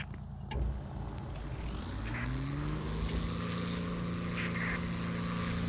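A propeller plane engine in War Thunder spools up for takeoff, a steady droning hum that rises in pitch and grows fuller as it gathers speed, loud and continuous with no voices.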